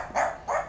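A dog on the grounds of a riverside garden house in Saigon gives two short barks about a third of a second apart, moderately close and alone.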